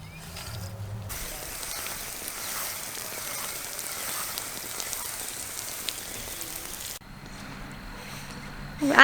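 A garden hose sprays water up into the air so it falls like rain, a steady pattering hiss for several seconds that starts and stops abruptly, with a brief outdoor pause after it.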